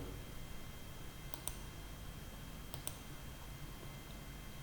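Two sharp computer mouse clicks, each a quick double tick, from an external mouse, heard about a second and a half apart over a steady low room hum.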